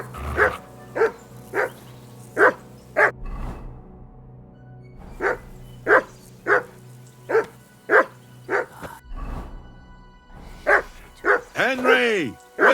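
A dog in Kingdom Come Deliverance 2 barks loudly and repeatedly, in regular sharp bursts separated by short pauses, close by, with a low background drone and a brief whine near the end.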